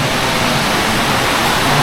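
A clear river flows beside a village hidden in the forest, a loud, steady rushing wash of water, close and unbroken, with no voices.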